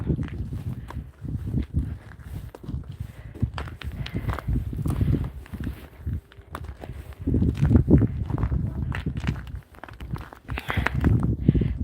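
Irregular thuds and soft crunching clatter of heavy wet snow sliding and dropping off a metal tile roof, fairly close, continuous with brief pauses.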